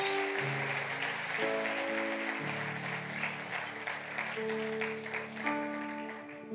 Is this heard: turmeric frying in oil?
no